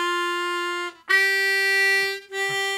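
A harmonica plays single notes of a third-position pentatonic scale in the bottom octave, three sustained clean reedy tones separated by short breaths, close and alone with no talking.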